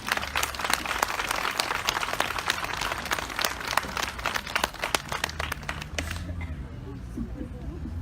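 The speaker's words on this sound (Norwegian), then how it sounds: "Gi han en applaus." Audience applause at an ME awareness day event in Stavanger, welcoming a professor to the stage: steady dense clapping fills most of the stretch, then thins and fades out near the end.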